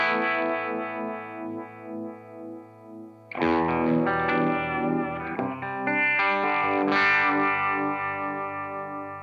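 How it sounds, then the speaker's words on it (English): Electric guitar run through a vibe machine pedal giving a Univibe-style throbbing, swirling modulation: soft sustained chords at first, then louder, fuller distorted strumming and phrases that ring out alone with no voices. "a vibe machine. Great for like the Univibe."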